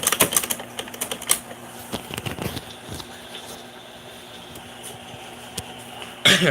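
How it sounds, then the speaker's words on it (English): Typewriter keys struck in quick, uneven bursts, with sharp mechanical clacks close by and a few louder strikes standing out. No one speaks. "So yeah, it's my typewriter."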